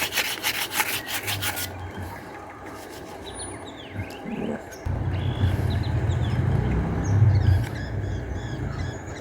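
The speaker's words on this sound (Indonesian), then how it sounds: "Kita amplas saja." A brief burst of fast scratchy sandpaper strokes on the crusted, dirty shaft of a Sanex box fan, then quieter rubbing and handling noises with low background hum, close to the listener.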